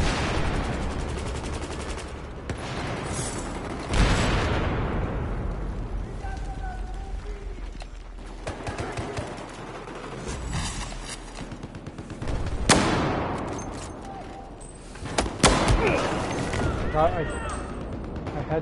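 Scattered gunshots and sharp sniper cracks ring out in a shooter video game, loud individual reports spaced irregularly among quieter stretches of game noise and people talking.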